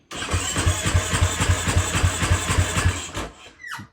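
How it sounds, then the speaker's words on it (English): A KTM EXC-F dirt bike engine cranks over on the starter with the kill switch off and never fires, giving a steady, close, loud rhythmic churning of roughly ten even pulses for about three seconds before it stops. "give it about 15 seconds of crank, and you will notice that a bunch more oil comes out"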